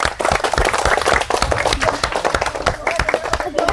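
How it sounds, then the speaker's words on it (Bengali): A crowd claps in dense, continuous applause for a player at a steel ball game, the rapid hand claps sounding close and loud under someone talking. "হাততালি তার জন্য, হাততালি।"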